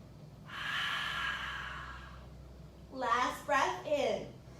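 Deep breathing during a power yoga pose: a long, airy exhale close to the mic, then several shorter breathy, voiced puffs in quick succession.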